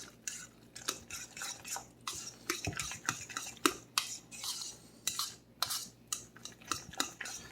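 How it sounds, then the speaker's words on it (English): A no-mayo egg salad being mixed with salt and pepper, close, soft repeated clinks and scrapes of a utensil against a bowl alongside moist squishing, in an irregular stirring rhythm. "Mix that around really good."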